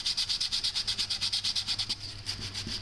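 Fine-grade sandpaper rubbed back and forth over the top of a PVC flute, a steady rhythm of quick scratchy strokes, close and clear, slowing and becoming uneven near the end.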